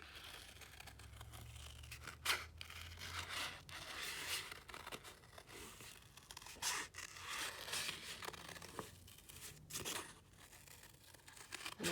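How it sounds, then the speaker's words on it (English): Scissors snip along lines in paper for a paper sculpture. The cuts come as repeated crisp, close clips, mixed with rustling and crinkling of the sheet and no voices. "Then what I'm going to do is cut along these lines."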